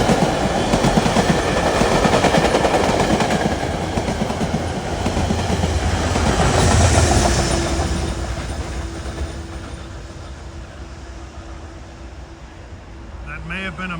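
A Metro-North push-pull set bound for New York rushes past on the New Haven Line between Greenwich and Stamford, Connecticut, a loud clattering roar that swells, then fades into a low hum with a brief squeal near the end.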